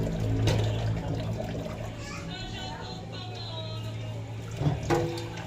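A weak trickle of water runs from a tap, a faint continuous patter under steady background hum while a voice and other people talk nearby.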